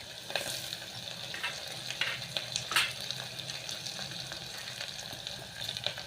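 Tomato hitting a hot frying pan while cooking khichdi gives a steady close sizzle with brief stirring scrapes and small bursts of spitting, no voices over it.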